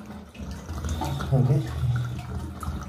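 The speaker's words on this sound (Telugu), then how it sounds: "ఎన్నో కొన్ని వాటర్ అనేవి వస్తూనే ఉన్నాయి వాల్ కట్టేసినా సరే" Water keeps running from a leaking tap whose valve spindle is being replaced, a steady splashing flow throughout while someone speaks briefly over it.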